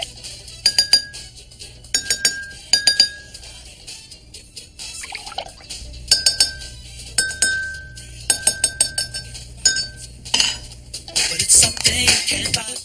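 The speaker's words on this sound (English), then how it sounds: "Add water to lower the pitch of the glass that sounds higher." Water-tuned drinking glasses are struck repeatedly in short groups, each tap giving a bright clink and a thin ringing pitch, with faint splashing and clatter near the end.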